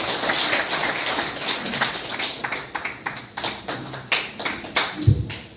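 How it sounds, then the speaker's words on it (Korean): Applause from the audience at a Korean book launch event as a lawmaker is welcomed to the stage: steady clapping at first, which thins into a few louder, separate claps near the end. "역시 박수로 맞이해 주시기 바랍니다."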